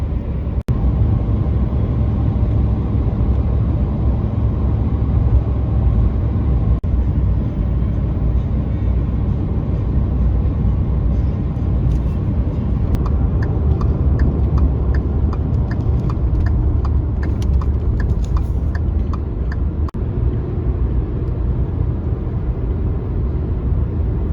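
A car drives along a road toward a hunting lease, giving a continuous loud rumble of engine and road noise from inside the cabin, steady throughout with faint rattles, and no talking.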